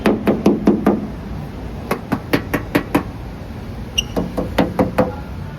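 Knuckles rap on the metal body panel of a Suzuki Alto in quick clustered series of sharp hollow knocks, pausing between groups, close and clear.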